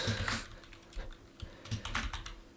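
Typing on a computer keyboard, uneven bursts of close keystrokes in quick clusters with short pauses between, moderately quiet and with no voice over it.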